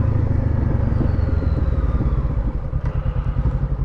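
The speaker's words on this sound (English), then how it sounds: "the sound of the engine" Honda NX500 parallel-twin motorcycle engine running steadily, a loud, close, continuous low rumble with a throbbing pulse throughout, no talking.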